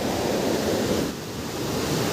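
Water spills over a check dam like a waterfall after heavy rain, a steady broad roaring rush, close and loud, with no voices.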